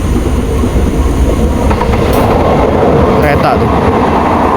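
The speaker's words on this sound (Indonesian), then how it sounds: "Kereta tuh." A train passes nearby at night, a loud continuous rumble of wheels and cars on the rails with faint clicking, filling the whole stretch with no talk.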